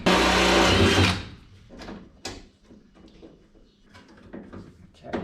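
A power drill bores a small pilot hole while a central locking kit goes into a car with a trunk release, a loud steady whir for about a second, then quiet handling clicks and knocks.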